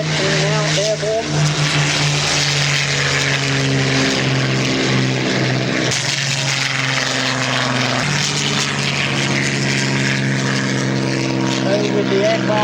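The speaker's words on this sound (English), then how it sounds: "First section now airborne." Propeller fighter aircraft take off together at a Battle of Britain 60th anniversary air show at Biggin Hill, a loud sustained multi-engine drone with shifting pitch as they climb, while a commentator speaks over it.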